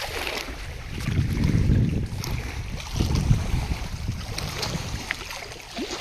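Water flows steadily at a scenic outdoor spot, a continuous broad rushing wash with rumbling surges and some wind buffeting the microphone, no voices.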